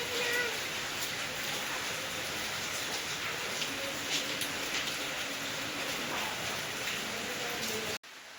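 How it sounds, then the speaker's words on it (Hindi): Heavy rain pours down in Moradabad with a dense, steady hiss of drops hitting surfaces, unbroken and fairly loud before it cuts off abruptly near the end. "देख ली ना गाइस कितनी ज़ोरदार बारिश पड़ रही है"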